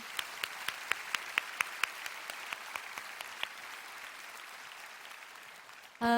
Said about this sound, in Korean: 우리 주님께 영광의 박수 올려드립시다.